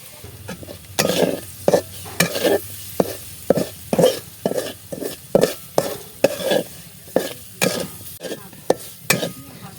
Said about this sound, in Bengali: এগুলো পেঁয়াজগুলো একটু ভাজা ভাজা করে তারপর মশলাগুলো দিয়ে দেব